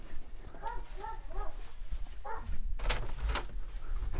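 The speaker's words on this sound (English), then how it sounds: "I need to check on the dog. He keeps barking." A dog barks a few times in short close bursts indoors, then a door or cupboard clatters and rattles nearby.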